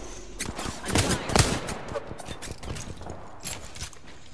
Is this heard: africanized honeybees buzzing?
no